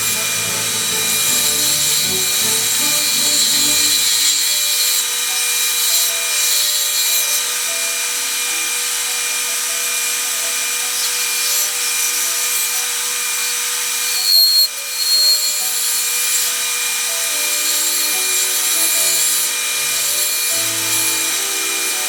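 Wood being smoothed and rubbed at the front of a wooden Bic-style pen, a steady continuous abrasive hiss with faint brief talk near the start and a short bump midway.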